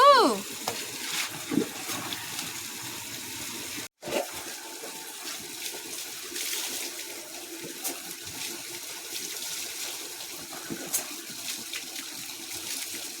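Water runs and splashes steadily while a muddy pet dog is bathed, a continuous close hiss and trickle with a brief break, under a voice.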